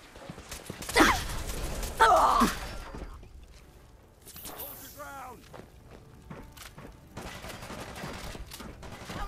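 Gunfire aimed at a light in Fallout 4: two loud separate shots or short volleys close together early on, then a quieter stretch with a brief voice and scattered game sounds.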